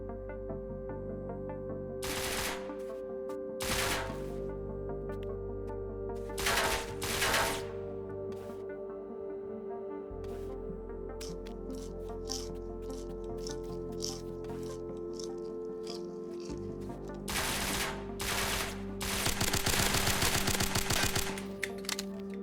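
MP7 gunfire in the video game Fallen Survival, sharp bursts of rapid shots in several separate volleys over a steady droning background hum.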